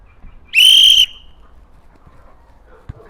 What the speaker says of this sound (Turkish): Düdük çaldı mı başlıyorsunuz.